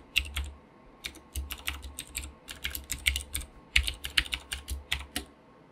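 Credentials being typed on a computer keyboard while setting up an iSCSI connection in Windows Server, a steady run of close, crisp key clicks in irregular bursts with no talking.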